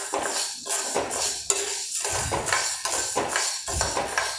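Green gram being stirred as it dry-roasts in a pan for payasam, with repeated scraping and rattling strokes of a spoon against the metal in a steady rhythm, close and fairly loud, no talking.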